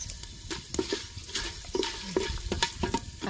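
Whole spices (cumin, 8-9 peppercorns, 5-6 cloves, bay leaf, cinnamon pieces and a cashew) fry in a pan for a curry, with a steady sizzle broken by repeated stirring scrapes and clacks, close and fairly loud, no voices.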